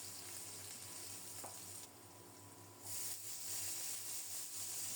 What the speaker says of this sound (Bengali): অল্প কিছুক্ষণ আলুগুলো ভেজে নিয়ে কুচানো পেঁয়াজ দিয়ে দেব।